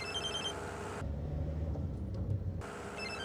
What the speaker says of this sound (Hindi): कॉल आ रहा है